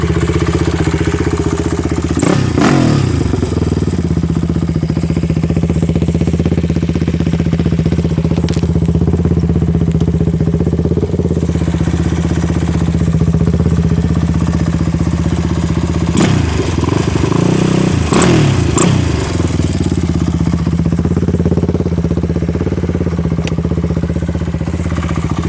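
A 2006 Honda TRX450R ATV fitted with an HMF exhaust runs steadily nearby, its engine holding a loud, even idle with two brief blips of revving throughout.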